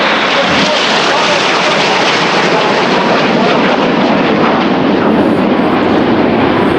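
Red Arrows jets performing a flying display at the Royal International Air Tattoo, a continuous loud broadband engine roar sustained throughout without a break.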